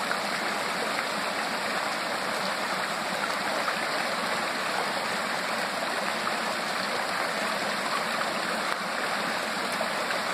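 A creek flows steadily and fairly close, with a constant broadband rush and gurgle of water running on without a break and no voices.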